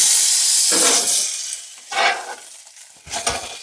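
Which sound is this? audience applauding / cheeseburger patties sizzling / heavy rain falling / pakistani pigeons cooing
cheeseburger patties sizzling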